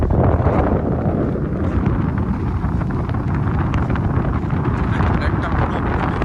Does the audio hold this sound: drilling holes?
no